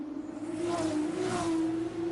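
Race cars on a formation lap at the Jeddah circuit in an F2 racing game hum along at steady engine pitch with a couple of gentle revving swells, fairly close and without talk.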